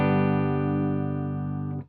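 Electric guitar played through a Sinvertek Distortion No.5 pedal, a single sustained distorted chord ringing thick and loud before cutting off abruptly near the end.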